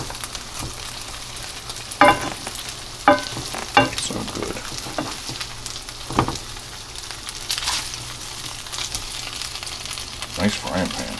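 Salisbury steak patties brown in a frying pan, sizzling steadily with scraping and stirring clatters, and a brief spoken comment in the middle.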